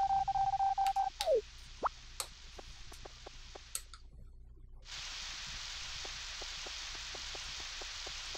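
Rain in the farming video game Harvest Moon 64 sets in as a steady, even hiss after a stretch of short game blips and ticks, continuing alone to the end.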